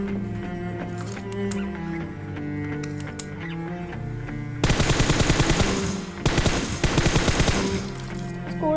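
Rapid automatic gunfire in the PUBG Mobile video game comes in two close, loud bursts after a quieter stretch of game ambience and faint tones.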